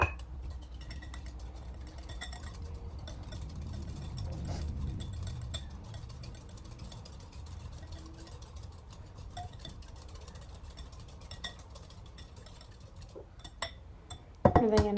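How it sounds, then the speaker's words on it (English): Butter stirred into buttermilk in a glass bowl: a faint, steady scraping and swishing with light glassy clinks, quiet throughout and ending in a sharper knock. "add our butter to our buttermilk and then stir it all together nicely, getting everything combined"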